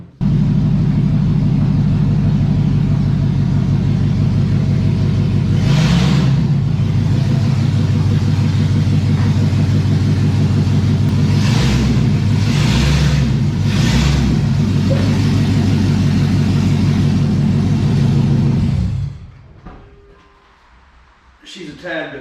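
A Chevy Z71 truck running straight pipes with no mufflers, a loud, deep, steady rumbling idle with a few throttle blips, then the engine cuts off and falls quiet.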